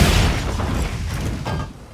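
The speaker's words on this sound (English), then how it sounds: "if you hit left click, right click, you get an elemental discharge" Switch axe elemental discharge from Monster Hunter Wilds: a loud, sustained booming burst with crackling energy that rolls on for nearly two seconds, fading slightly at the end.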